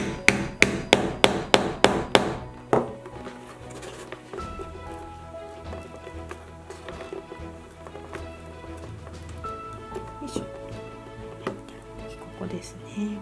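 A hammer strikes a punch through leather in a quick run of about eight sharp, evenly spaced blows, followed by scattered lighter taps as a person talks over the work.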